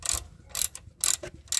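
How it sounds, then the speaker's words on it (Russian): Ratchet tightening the driveshaft center bearing mount on a VW Transporter T5 van, four short clicking bursts in a steady rhythm, close and clear with no talk. "Закручиваем крепление подвесного."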